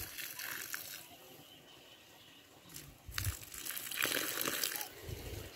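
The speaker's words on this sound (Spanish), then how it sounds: "Ahora yo voy a colocar agua." Water is poured while tending plants outdoors, with uneven splashing bursts that grow louder toward the end and faint handling noises in between.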